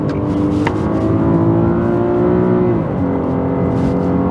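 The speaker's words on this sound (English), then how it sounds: "The rev match downshifts on this are really cool" A Nissan Skyline 250GT's engine revs sharply as it blips for a rev-matched downshift, the steady loud drone swelling and then dropping in pitch, heard from inside the car with no talking.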